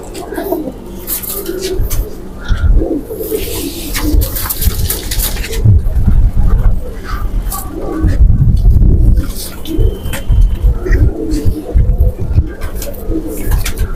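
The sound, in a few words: pigeons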